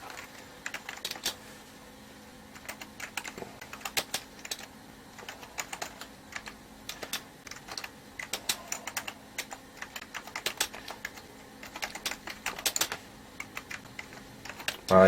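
Keys clack steadily on a Mac Classic computer keyboard in a word processor, typed in irregular bursts with short pauses, close and moderately quiet.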